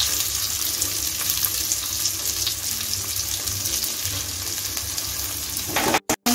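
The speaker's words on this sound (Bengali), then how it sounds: "এখন আমি চালটাকে নেড়ে চেড়ে 5 মিনিট" Soaked gobindobhog rice frying in a pan with tempered spices for paneer pulao, a steady close sizzle and hiss running throughout before cutting off abruptly near the end.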